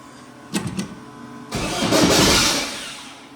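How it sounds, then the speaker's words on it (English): A brand-new old-school Joefab dune buggy engine cranks with a few quick starter bursts, then catches and roars, building to a loud, close rumble before easing slightly. "I'm gonna go ahead and fire this thing up and see how it runs."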